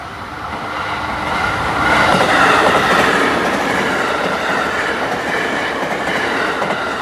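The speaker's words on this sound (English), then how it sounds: "Bullet train is just overhead right there." A Japanese bullet train rumbles past on an overhead track, its rushing roar and rhythmic wheel clatter swelling and holding loud and near throughout, with no talking.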